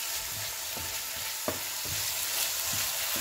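Tomato puree fries in a pan for a vegetable noodle dish with a quiet, constant sizzle. A spoon stirs it in several soft scrapes, and no one speaks.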